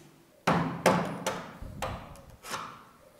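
A small screwdriver taps and pushes a window hinge pin downward, giving four or five sharp knocks spaced about half a second apart, close and moderately loud with no voices.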